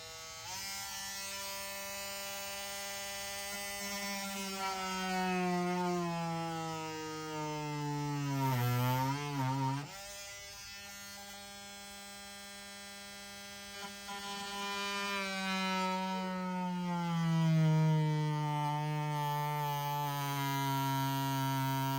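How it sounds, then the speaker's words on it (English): A cutting tool plunges into the plastic rear bumper of a 2019 VW Alltrack to fit a trailer hitch, giving a steady, close, high whine for the whole stretch. Its pitch sags under load midway, then recovers. "I plunged the cutter into the plastic."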